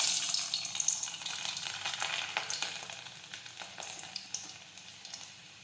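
Garlic frying in hot oil in a pan for a methi curry, a soft continuous sizzle with faint crackles that slowly fades, no voices.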